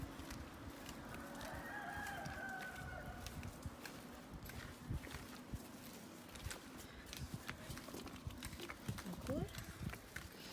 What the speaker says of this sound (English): All the roosters. Listen close so you can hear the chickens.